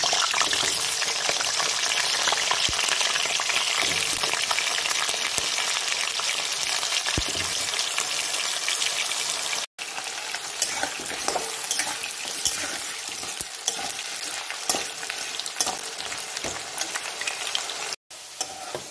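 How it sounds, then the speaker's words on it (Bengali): Potatoes frying in oil for a raw jackfruit curry, a dense continuous hiss and crackle of bubbling oil with occasional stirring scrapes, close and steady, no voices. "আলুটা ভালো করে ভেজে নেব।"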